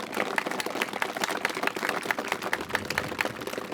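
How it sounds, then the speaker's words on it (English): Audience applause at a Cleveland police academy graduation ceremony, a steady, fairly loud crowd of many hands clapping throughout with no talk. "Give them a round of applause, guys, please"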